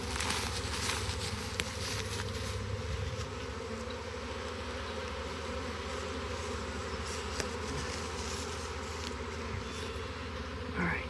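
Dense, steady buzzing of a swarm of honeybees being moved into a hive, loud and close throughout, an agitated continuous drone with occasional faint knocks.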